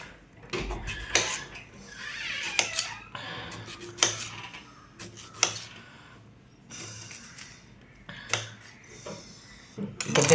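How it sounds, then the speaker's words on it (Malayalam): Knife cutting peeled raw green mango into small pieces on a board, producing a series of sharp chopping clicks and scraping taps at irregular intervals, close and fairly quiet, with no talking. "സോ ഇത് ചെറിയ ചെറിയ കഷ്ണങ്ങളാക്കി ഇങ്ങനെ മുറിച്ച് കൊടുക്കുക"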